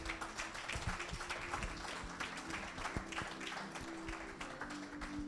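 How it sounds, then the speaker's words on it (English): Audience at an honorary doctorate conferment ceremony in Lagos claps steadily, a quiet, distant patter of many hands with a low tonal hum running underneath. "Let's put our hands together for him."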